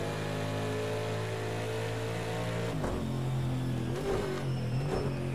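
IMSA race car on the Long Beach street circuit, a loud, close engine drone with steady harmonic tone, then throttle dips and revs toward a turn, alone without talk.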